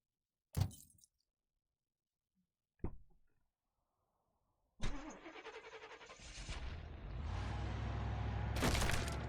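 Video game car engine starting in the horror game In Silence: two short isolated clunks, then an engine cranks and catches into a steady idle rumble that rises in revving near the end, with no talk.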